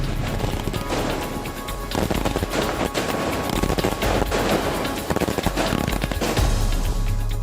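Dense, rapid crackling bursts of fireworks set off at night, loud and close, with sharper pops scattered throughout.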